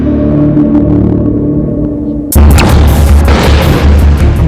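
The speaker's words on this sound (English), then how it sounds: "The footage of the Unit 1 explosion plays again and again on television and the internet." Explosion at the Unit 1 reactor of the Fukushima nuclear plant: a sudden loud boom cuts in after a steady low hum and gives way to a sustained roaring rumble.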